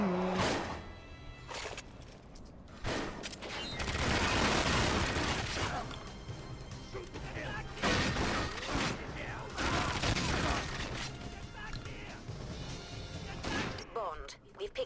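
Gunfire in the video game 007: Agent Under Fire comes as dense, loud bursts of shots and explosive blasts that run almost continuously, with a player talking over parts of it.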